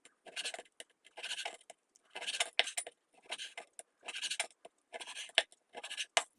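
Knife slicing through chicken thighs on a cutting board, a series of short scraping cuts in quick bursts with brief pauses between, close and fairly faint, no talk.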